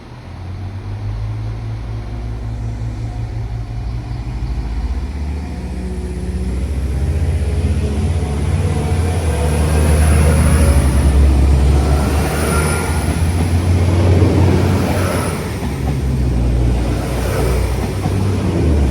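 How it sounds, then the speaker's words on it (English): A train pulls out of Ballymena station at night, a steady low rumble that builds and swells as it passes close by, then eases off, with a faint high whine on top and no voices. "This train leaving."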